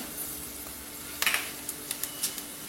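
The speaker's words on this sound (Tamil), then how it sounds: "மிளகு நல்லா பொரியட்டும். இப்போ ஜீரகம் போடுவோம்," Black pepper and cumin frying in sesame oil, a quiet steady sizzle with a few sharp crackles and pops from the spices, close and alone with no talk.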